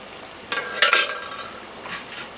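A spoon stirs Telangana-style mutton curry in a pot. A couple of close scraping strokes against the metal come with a faint sizzle beneath, then trail off softly, with no talking.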